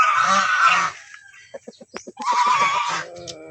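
Pet turkeys on a range, loud close gobbling and honking calls in two bursts separated by a series of short clucks.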